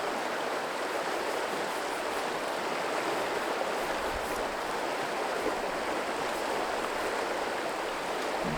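The Metolius River rushes steadily close by, a broad, unbroken wash of flowing water holding even throughout with no voices.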